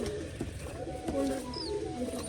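Soft coos of white pigeons feeding their chicks and faint bird calls over a low, steady background with some murmuring nearby.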